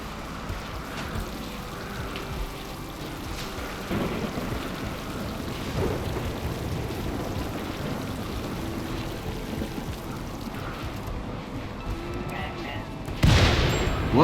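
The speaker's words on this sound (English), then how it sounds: "It's raining, so I'm not going to worry about it." In the RimWorld video game, rain falls steadily with low rumbles of thunder rolling underneath. A louder burst near the end rises over the continuous rainfall.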